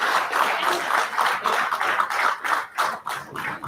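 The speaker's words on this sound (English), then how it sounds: "A round of applause for them as they walk up the dais." Audience applause at a Lions International District 317F regional meet as honoured guests walk up to the dais: a dense, sustained patter of many hands clapping, steady and fairly loud throughout.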